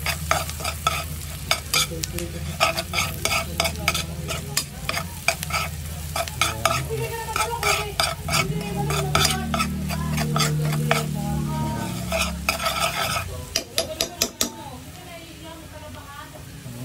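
Beef cubes sizzle and fry in a pan while a spoon stirs them in repeated scraping strokes for homemade gravy. A voice talks over the cooking now and then, and the stirring grows sparse near the end.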